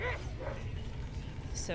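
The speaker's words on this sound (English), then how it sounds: "I don't know if you can hear the dog barking" A dog barks a few short yips in the background of a room, faint against louder nearby talking.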